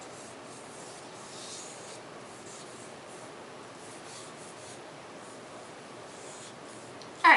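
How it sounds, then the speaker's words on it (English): Vine charcoal rubbed across paper while shading cast shadows in a drawing. Soft, faint, continuous scratching and rubbing, with a brief louder scrape at the very end. "I can also start drawing my cast shadow out."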